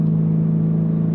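A 2024 BMW M3 with the manual gearbox and twin turbos holds a loud, steady engine drone at fairly high revs, close and continuous, with no talking.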